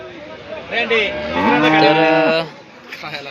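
A cow at a livestock market moos loudly and steadily, a long low call with a rising, wavering tone, close by with faint background noise.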